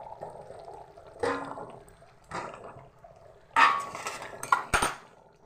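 A lid clanks off a metal pot of meat cooking in water on a kitchen stove, sharp bright metallic knocks and rattles near the end, after soft shuffling and low bubbling.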